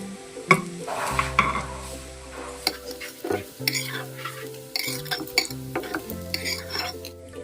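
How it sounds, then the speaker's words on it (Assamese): Chana dal fritters fry in a pan of oil, a soft sizzle beneath repeated close scrapes and clinks of a utensil stirring and turning them, with sharp metallic taps at irregular moments. "আৰু বাকীকেইটা বৰ মই এইদৰে ফ্ৰাই কৰি ল'ম"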